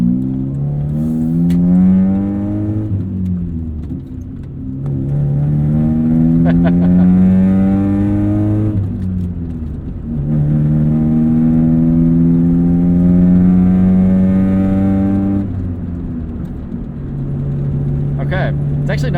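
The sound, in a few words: 1996 Saturn SC2 engine revving, glass pack exhaust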